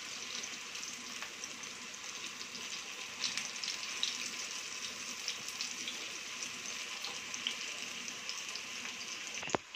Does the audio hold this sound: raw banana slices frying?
yes